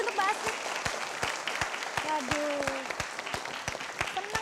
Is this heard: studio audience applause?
yes